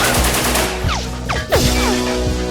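Rapid machine gun fire in an action video game or film, loud and continuous bursts with sharp descending whistles and clatter layered over a steady low engine drone.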